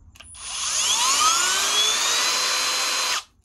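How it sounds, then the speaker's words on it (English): A Milwaukee M12 Gen 3 drill/driver on speed one at a low clutch setting whines up quickly to a steady high-pitched motor hum, holds for about three seconds, then cuts off abruptly. "So also gone is kind of that slow ramp up in speed one in a low clutch setting."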